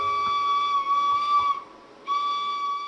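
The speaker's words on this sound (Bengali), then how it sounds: "আমার বোন কোথা থেকে এই বাসিটা পেয়েছে জানি না" A small flute held as one steady, clear high note with a breathy edge, briefly cutting out before resuming, close and fairly loud with no talking.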